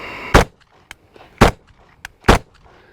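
HK Mark 23 pistol with a compensator fired two-handed, three loud sharp shots about a second apart, each followed by faint clinks and brief echo, no talking.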